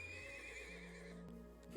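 A horse whinnies in the video game Trails of Cold Steel II, a faint wavering neigh over a soft backdrop, fading away after about a second.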